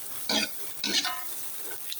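Food fries in a pan, with two short bursts of crackling sizzle over a quieter ongoing hiss.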